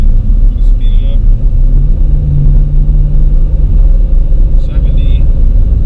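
A stock Ford F-150 with the 5.0 V8 and a Passini muffler accelerates through a turn, its engine a loud, constant low rumble that rises slightly in pitch, with brief high whines and no speech.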